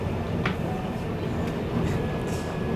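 A Seoul subway train rolls along with a steady, dense rumble and hum, a constant loud interior drone with faint brief squeaks.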